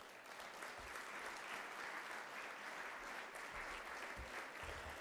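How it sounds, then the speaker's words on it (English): Guests at a community breakfast event in West Bloomfield, Michigan give a sustained round of applause, a dense, even wash of many hands clapping at a low, distant level. "they also deserve a nice big round of applause."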